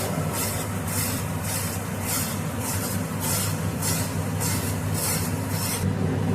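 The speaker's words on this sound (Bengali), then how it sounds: "গ্যাসের ফ্লেমটা লোতে রেখে এ সময় ভালো করে নাড়তে হবে" A spoon stirs semolina with khoya kheer in a pan over a low gas flame, a continuous scraping rasp in a steady back-and-forth rhythm, close and fairly loud.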